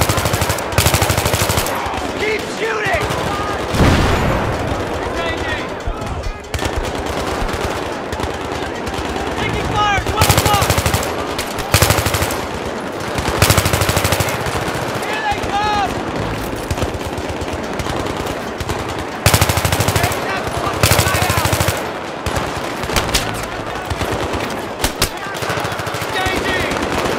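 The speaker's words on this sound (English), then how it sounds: "Shooting!" Automatic weapons rattle in long, dense bursts through Battlefield 3 combat, loud and nearly continuous with sharp single shots mixed in, while shouted voices come and go under the firing.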